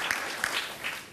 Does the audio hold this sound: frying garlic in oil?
no